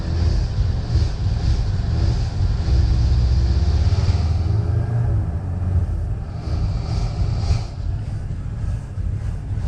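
A 1979 Ford E250 van with a faulty carburetor idles close by, a loud, steady low engine rumble that holds through the stretch with some wind noise and no talk.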